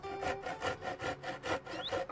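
Hand saw cutting through scavenged street wood for a raised garden bed, about seven even rasping strokes in steady rhythm, fairly quiet and close.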